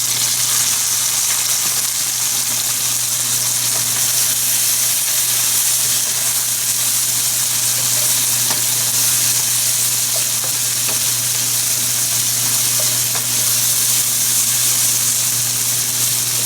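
Sausages sizzle steadily in a pan as red wine vinegar goes in, producing a loud, continuous frying hiss with a low hum beneath it and no pauses or talk throughout.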